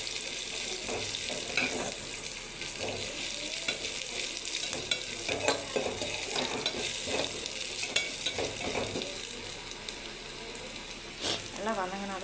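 Ingredients for a green gram lentil curry sauté in a pan with a continuous soft sizzle and repeated clinks and scrapes of stirring, while someone talks over it.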